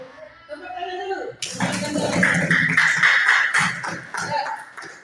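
An indoor audience breaking into a burst of clapping, a dense patter of many hands that swells after a quiet start and runs for several seconds, with some voices mixed in.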